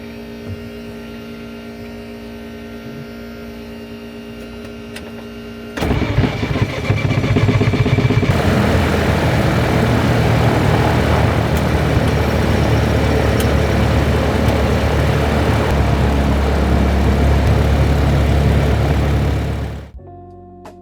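A light propeller training aircraft at a Sydney airfield, engine cranking to life and settling into a loud, steady droning run for about fourteen seconds before cutting off abruptly.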